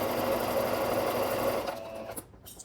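A single-speed home sewing machine stitches fabric with a steady, close whirring clatter that runs evenly, then slows and stops in the last second, leaving a few faint handling clicks.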